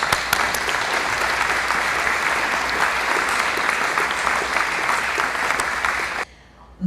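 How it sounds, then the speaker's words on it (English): An audience at a National POW Day event gives a sustained round of applause, a thick, even wall of clapping that carries on for about six seconds and then cuts off abruptly into near silence. "let's give them all a round of applause"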